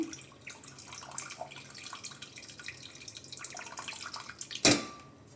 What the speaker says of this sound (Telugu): దీంట్లో కూడా ఒక 2 గ్లాసెస్ వాటర్ అయితే యాడ్ చేసుకుంటున్నాను